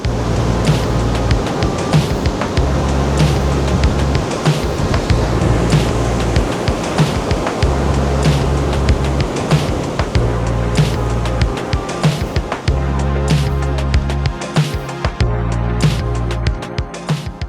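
Strong wind buffets the microphone at a busy Baltic Sea beach, a loud, steady roar with gusting rumbles and surf beneath it, continuing without talk.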